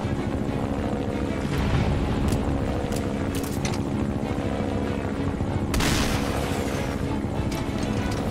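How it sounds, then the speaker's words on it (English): A helicopter in Metal Gear Solid V: Ground Zeroes roars close by with steady, loud rotor thrum and engine whine, joined by a sharp burst of noise midway. "Chopper."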